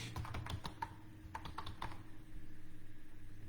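Someone types on a computer keyboard during an HTML web design lesson: a burst of quick, irregular key clicks up close, then a quieter stretch of lighter tapping over a low background hum.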